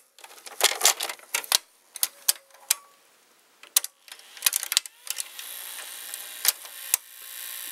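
Inside a VCR, gears and the loading mechanism turn as the tape is wrapped around the head, giving irregular close mechanical clicks, ticks and clatters, then a soft continuous whir near the end.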